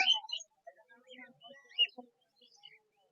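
Small pet birds in a shop chirp faintly and sporadically, short scattered tweets with quiet gaps between them.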